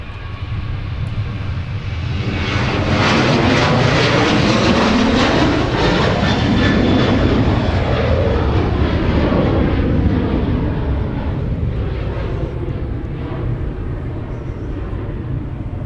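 Jet airliner departing MSP airport, a loud sustained engine roar that swells and slowly fades as the aircraft climbs away, steady and continuous throughout.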